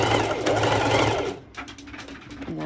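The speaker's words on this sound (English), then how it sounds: "I am going to do a back and forth stitch." A sewing machine running a back-and-forth stitch on a cropped top: a loud steady mechanical whir that stops after about a second and a half, followed by fainter ticking and a brief restart, with a voice over it.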